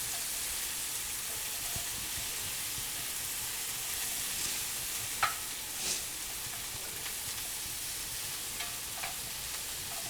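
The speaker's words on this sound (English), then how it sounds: "Stir them around." Halved baby carrots are stirred in a hot pot before slow cooking as a constant sizzling hiss runs underneath, with a few faint scrapes and knocks of the spoon.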